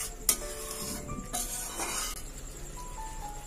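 Prawns being stirred into a yogurt curry in a pan: a few light scraping and clinking strokes of a utensil against the pan over a soft sizzle, quiet and close, with no talking.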